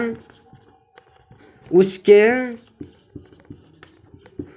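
Chalk or marker strokes on a board during a Class 10 maths lesson, heard as short scratchy ticks and taps that follow a brief burst of a voice.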